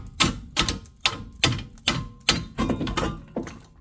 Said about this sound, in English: Oh, needs a little more hammering.